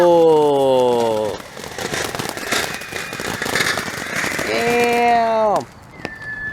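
Fireworks are lit and go off: a stretch of crackling pops and bangs sits between whistling, sweeping tones, while people talk and shout loudly around them.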